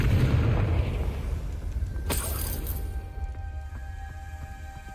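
A fiery blast from the Confringo spell in Hogwarts Legacy erupts as a sharp crack-and-whoosh burst in the middle, set against a steady low rumble of game ambience.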